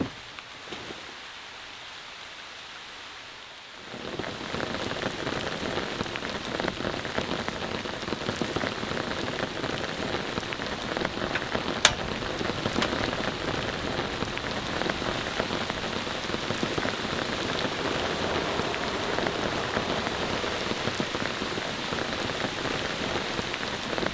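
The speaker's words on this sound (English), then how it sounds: "It's pouring the rain outside, as you all can hear." Heavy rain pours steadily on a remote mountain campsite, a dense even hiss of drops drumming on surfaces that starts abruptly after a few quiet seconds and continues loud and unbroken.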